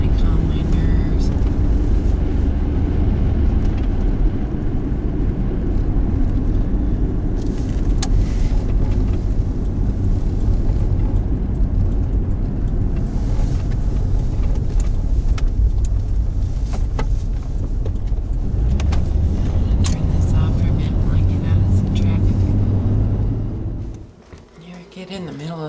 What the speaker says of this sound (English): I'm just gonna give a try run on this. Go for a drive